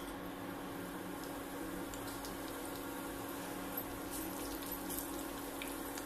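A continuous crackling hiss of mustard and cumin seeds frying in hot ghee, steady and close, with faint pops scattered through it and no talking.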